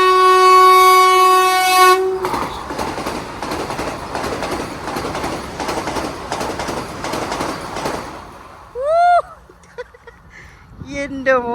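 A Vande Bharat express at Suravali, Goa sounds a long, loud horn blast, then roars past at high speed with dense rushing rail clatter for several seconds before fading, leaving a few short chirpy calls and brief voices.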